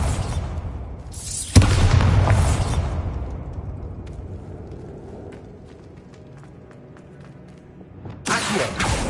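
A Bombarda explosion spell goes off in Hogwarts Legacy, a loud bursting boom with a rumbling tail that fades over several seconds before another sharp impact near the end.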